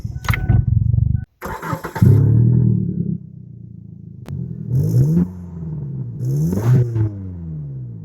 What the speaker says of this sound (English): Now, I do have to say the engine does start really well.